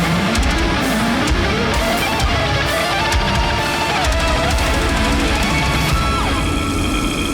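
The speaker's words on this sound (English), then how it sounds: "You can hear the sinister black metal that's coming in" Dense, distorted black metal music with a wailing lead guitar line over pounding drums, loud and continuous throughout.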